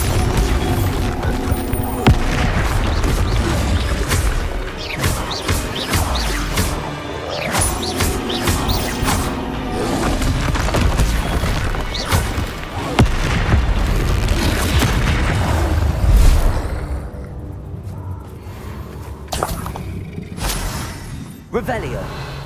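Bombarda blasting-spell explosions in Hogwarts Legacy: repeated loud booms and shattering crashes over a dense, continuous game soundscape, with voices speaking throughout.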